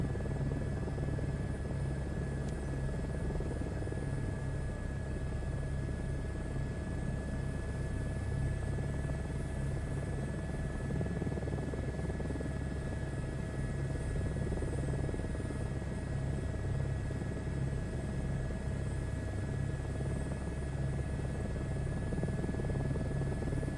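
A helicopter's engine and rotor in Microsoft Flight Simulator 2024 give a steady, dense drone with a constant low thrum and a fine high whine, unchanging and uninterrupted throughout, with no voices.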